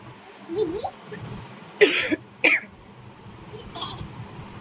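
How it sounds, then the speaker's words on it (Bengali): Two sharp coughs come in quick succession near the mic, with soft talking and faint background noise around them. "আমার কাশি পেলে তো তোরও পেলো।"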